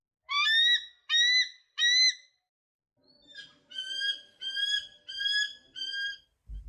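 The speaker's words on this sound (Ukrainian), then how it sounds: "Орел." An eagle's shrill, whistling cries: three sharp calls close together, a short pause, then five more high piping calls at a steady pace.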